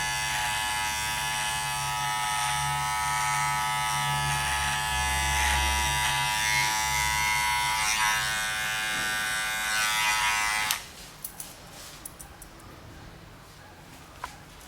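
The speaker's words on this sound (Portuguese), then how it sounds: "Com a máquina, com o pente número 2, nós vamos fazer a redução dos pelos na região do cavanhaque." Electric hair clipper with a number 2 guard trimming a goatee beard: a steady close buzz for about ten seconds, then it cuts off, leaving faint handling clicks.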